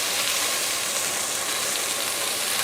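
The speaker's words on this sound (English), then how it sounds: "Listen to that sizzle." Chicken fajita vegetables sizzle in a hot pan, giving a steady loud frying hiss that fills the whole moment with no break.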